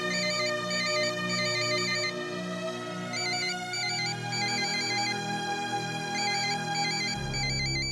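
A phone rings with an incoming call, a melodic electronic ringtone repeating in bursts of chiming tones for about eight seconds, loud and clear with no talk.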